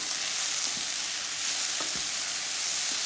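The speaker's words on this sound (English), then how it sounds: "I'm just going to keep stirring this" Ratatouille vegetables fry in a pan with a steady, close sizzle, while a utensil gives occasional faint scrapes as they are stirred, no talk.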